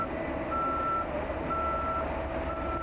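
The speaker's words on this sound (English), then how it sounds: "the concrete was carried with front-end loaders" Front-end loader at a construction site sounding its reversing alarm, steady evenly spaced beeps repeating under constant engine rumble and site noise.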